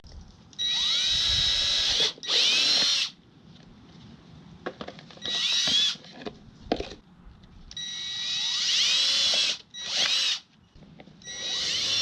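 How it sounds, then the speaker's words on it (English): A power drill bores holes in a battery case for paddleboard underglow lights, with several loud high-pitched bursts of whirring separated by short pauses and quieter handling noises. "I got to take some measurements and drill some holes."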